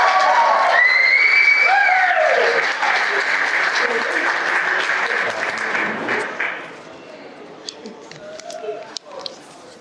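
Wedding guests at a reception in the Yarra Valley burst into loud applause with cheers and whoops, the clapping thick at first, then thinning to scattered claps and murmuring voices.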